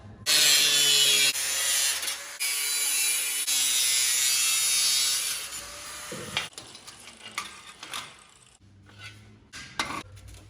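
Steel rear fender from a 1939 Harley-Davidson WLDR 45 being cut, a loud, steady harsh grinding roar for about six seconds, then scattered scrapes and clanks as the cut finishes.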